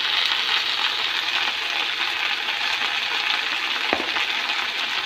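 Elephant apple (outenga) cooking in a pan, giving a steady, continuous hiss and sizzle throughout, with one brief clink partway through.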